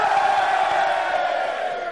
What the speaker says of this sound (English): Give me a cheer if you're from outside Reading.